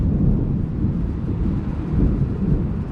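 Deep, continuous thunder rumbling through a storm, a low, steady roll with faint wind and rain texture, no voices.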